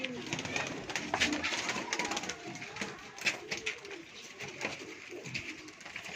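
Pigeons of an old breed cooing inside a coop compartment, a steady run of low, rolling coos at moderate distance with some background movement.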